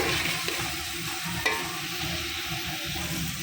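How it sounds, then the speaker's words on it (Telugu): Onions sizzle and fry in plenty of oil for a potato kurma, a steady close crackling hiss with occasional stirring clinks and no talking. "ఉల్లిగడ్డ కూడా మంచిగా ఉడకాలి నూనెలో"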